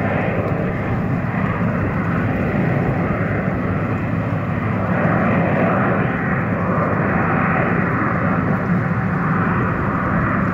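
Jet aircraft passing overhead heard from a sailboat on the Intracoastal Waterway: a loud, continuous broadband engine roar that holds steady for the whole stretch.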